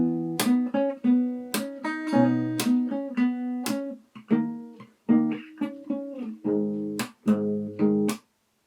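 Fingerstyle acoustic guitar plays the second section of a song's chorus, a rhythmic run of plucked chords with percussive slaps between phrases, close and solo, ending on a brief pause.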